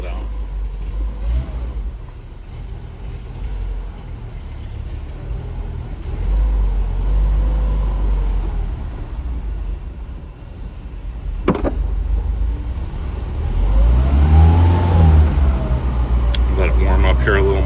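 A 1961 Mercedes 190SL engine idles and revs low and steady as the car is pulled out, with a door thump midway and a louder rev near the end, while people talk nearby.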